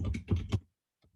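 A computer keyboard being typed on in a short, close burst of several quick clattering keystrokes, then a brief pause and a faint final tap.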